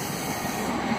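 A Hitachi train passing through Bristol Temple Meads station, a steady close rail roar with broadband hiss lasting the whole brief moment, without talk.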